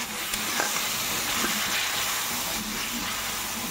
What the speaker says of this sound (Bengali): এবার মশলাটা আমি কষিয়ে নিচ্ছি।